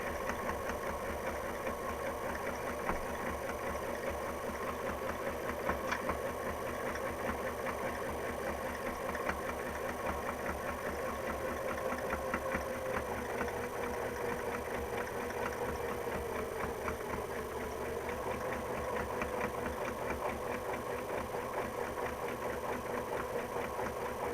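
A domestic sewing machine runs a wide satin stitch for applique over stabilizer, a steady fast mechanical whir with rapid needle ticking that continues evenly and up close throughout, with no talking.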